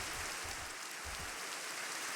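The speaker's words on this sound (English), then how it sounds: "and it's raining" Rain falling in a video game map of the Roanoke house, a soft continuous hiss of steady rainfall, faint and even throughout with no voices.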